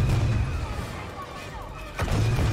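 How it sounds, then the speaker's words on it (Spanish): Blaster gunfire in Star Wars Battlefront 2 gameplay, a steady barrage of loud low booming shots throughout, swelling again near the end, with a voice faintly mixed in. "Sigue disparando, no tenemos otro sitio a donde ir."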